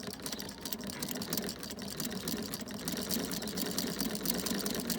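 A Junker & Ruh hand-crank sewing machine stitches with a fast, steady mechanical clatter, its needle action ticking in an even rhythm close by for several seconds.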